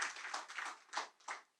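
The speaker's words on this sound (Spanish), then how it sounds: "Yo pensé que alguien iba a darle un aplauso al Señor" A church congregation claps for the Lord in a few soft, uneven bursts, faint and brief, with no voices.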